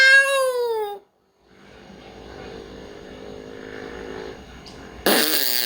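A voice imitates a cat meowing, a single drawn-out, falling meow at the start, followed by quiet background noise and a sudden loud burst at the end.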